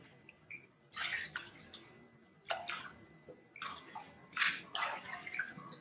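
Water splashes and sloshes in a bathtub while hair is washed, close, irregular pours and swishes in several bursts separated by quieter drips.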